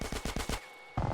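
A minigun in GTA San Andreas: a quick rhythmic series of about five heavy shots, a short pause, then another burst resuming at close range, heard alone without talk.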